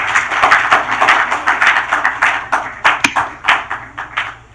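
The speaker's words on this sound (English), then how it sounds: "I think they deserve another round of applause" A smaller group claps for the winners at a sub-Saharan African university innovation showcase, producing distinct, fairly rhythmic claps that pulse in waves and stand out sharply in a quiet room with no voices.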